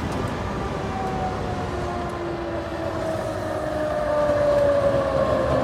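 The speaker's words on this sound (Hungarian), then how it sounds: "És közben jön egy ilyen bengáli féle villamos, az lesz a 7-es ezek szerint." A route 7 tram in Timișoara, Romania rolls closer with a steady rumble and a high wheel squeal that grows louder as it nears.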